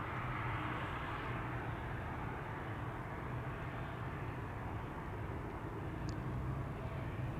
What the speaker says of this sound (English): Right, this is Austrian. Austrian flight 369 to Innsbruck. It's an A320, 12 years old.